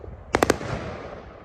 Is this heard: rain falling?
no